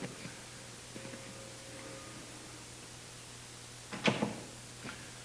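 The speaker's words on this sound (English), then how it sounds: "I'm going to shut this door." A door is shut in a church hall, giving a single loud thud with a brief rattle at about four seconds, over a steady background hum.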